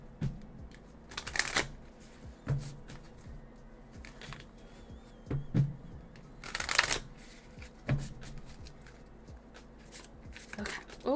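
Tarot cards being shuffled in bursts of riffling and sliding, with several louder flurries separated by quieter handling, close and fairly soft.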